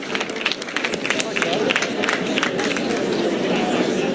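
Applause at a UK general election event as Keir Starmer arrives at his seat, a crowd clapping fast and dense with some cheering and chatter mixed in, loud and sustained throughout.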